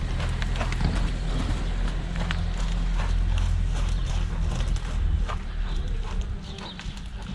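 A horse is worked by a rider in a village in Huelva province, Spain, its hooves clip-clopping steadily on the ground over a loud, rumbling outdoor background with no talking.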